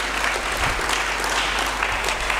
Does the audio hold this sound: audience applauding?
yes